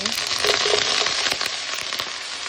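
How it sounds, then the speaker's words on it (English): Broccoli florets sizzle in browned butter in a pan, a loud, dense crackling hiss that holds steady for a couple of seconds. "So we're going to go ahead and add our broccoli florets"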